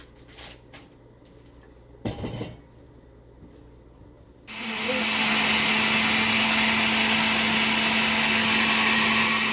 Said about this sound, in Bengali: পেঁয়াজ ব্লেন্ডার করছো?